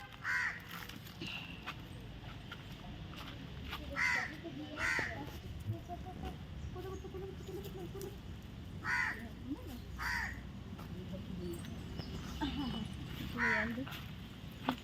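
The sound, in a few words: crow cawing in a tree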